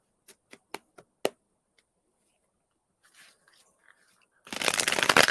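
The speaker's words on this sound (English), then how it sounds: "Meantime, I'm shuffling cards." Tarot cards being shuffled by hand, with a run of five crisp, separate snaps and riffles, a short pause, some faint rustling, then a loud, dense burst of continuous shuffling close by.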